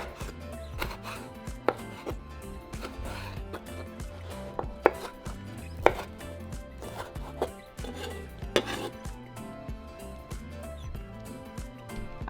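A knife chops vegetables on a cutting board for shrimp ceviche, making crisp, close, irregular chops in quick runs, with a few sharper knocks. No voices are heard.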